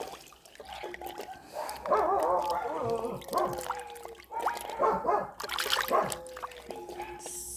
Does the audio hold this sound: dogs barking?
yes